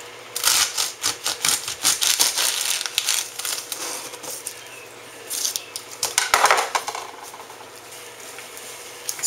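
A serrated knife saws through the end of a freshly cooked corn cob in a run of rough, crunchy, uneven strokes, close and fairly loud, with no talking.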